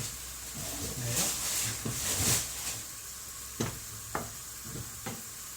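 Food is stirred in a sizzling pan in a home kitchen, giving a soft, continuous frying hiss with scraping strokes and a few sharp clacks of the utensil, as a person talks over it.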